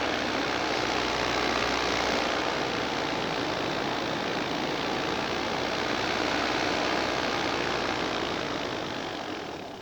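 A four-stroke paramotor engine drones steadily in flight, a loud, dense, continuous roar that holds level and fades only slightly at the end, with no voices.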